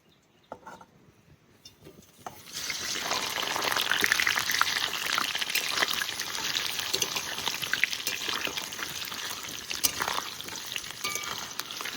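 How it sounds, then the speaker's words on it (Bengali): Parboiled potatoes go into hot oil in a wok. After a couple of quiet seconds a loud, dense sizzle bursts up and holds steady, crackling close by with scattered pops and no voices. "এবার আলুগুলো একটু ভেজে নেবো।"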